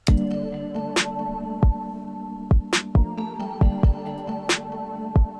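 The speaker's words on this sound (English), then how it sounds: "Next, we added some drums, so we got a kick and a snare, and that sounds all together like this." A hip hop beat with punchy kick drums and sharp snare hits over sustained tonal chords, the drums landing in a steady, syncopated pattern up close.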